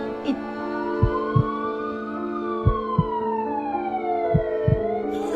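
Wailing ambulance siren rising and falling in pitch, loud and continuous, with several dull thumps sounding beneath it like a heartbeat.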